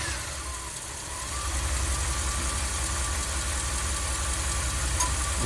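Ram camper van with a stalling problem, engine turning over and settling into a steady idle with a low rumbling drone, near and continuous, with no talk.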